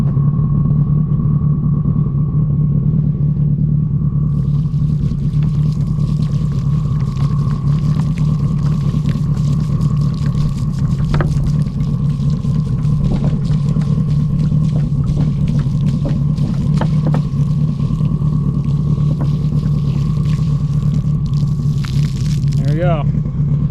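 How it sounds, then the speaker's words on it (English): A warmed-up 1100whp Subaru STI sits idling with a steady, deep, lumpy rumble close by, continuous for the whole stretch, with a brief higher whine near the end. "The car is all warmed up in the background here."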